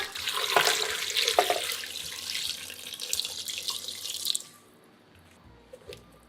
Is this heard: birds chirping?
no